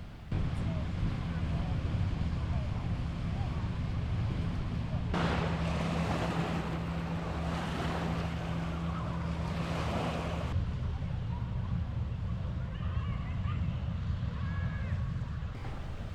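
Waves wash onto Lake Superior's Sandpoint Beach in a steady, moderate surf rush mixed with wind buffeting the microphone, a brief louder gust swelling midway through.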